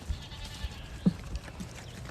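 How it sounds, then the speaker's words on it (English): Faint, brief bleating from hair sheep kept with newborn lambs on a farm, a single quiet call amid soft background noise. "Got to see the sheep."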